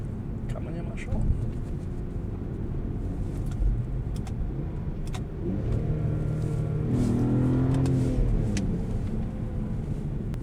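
Supercharged BMW E46 330ci engine rumbling and revving, a steady low drone that rises in pitch and loudness about halfway through, with people talking over it.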